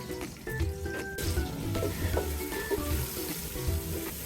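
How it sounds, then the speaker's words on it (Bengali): Onions sizzle and crackle steadily in hot oil, a close, continuous frying hiss with a few faint clinks of a pan. "এক মিনিটের মতো পেঁয়াজটা আমি ভেজে নেবো"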